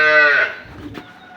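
A Jersey cross dairy cow, four teeth old, lets out a single short moo up close and loud, which fades into quiet rustling.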